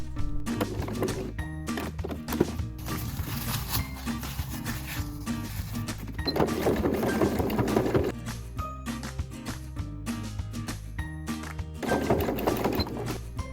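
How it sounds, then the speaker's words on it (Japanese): A sewing machine stitching two stacked layers of fabric along a curved edge for a pop-up camper roof: rapid, steady mechanical clatter in bursts that swell and ease off, close up and without talk. "2枚重ねて円弧の部分を縫っています。"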